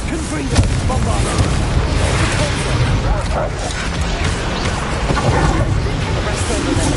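A Bombardo explosion spell in Hogwarts Legacy erupts in dense, loud booming blasts that roll continuously through a chaotic battle, with a voice calling out over the din.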